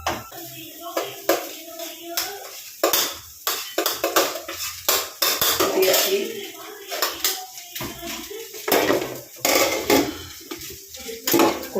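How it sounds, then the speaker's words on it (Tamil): Metal spatula scraping and clanking against a pan while tossing and stirring egg fried rice, rapid irregular close clatters and sizzling hiss, with a voice talking intermittently underneath. "தூக்கி மேலே போட்டு கிண்டி ரெடி"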